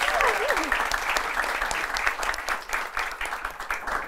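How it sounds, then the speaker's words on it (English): Steady applause from a crowd, dense clapping that fills the whole stretch at an even, fairly loud level, with a brief whistle or cheer at the start. "So, big applause."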